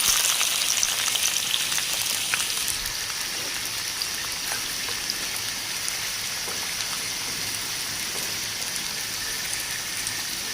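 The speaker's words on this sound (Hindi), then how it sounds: "इधर हमने फ्राई पैन में ऑयल डाल के प्याज और हरी मिर्च को फ्राई करेंगे।" Onions and green chilies fry in oil in a frying pan with a dense, even, rain-like crackle. The sizzle is a little louder at first and stays steady to the end, with no talking.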